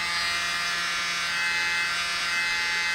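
A mini blower pushing air steadily through thinned pillow paint, giving a continuous even hiss with a faint low hum, close and alone for the whole stretch.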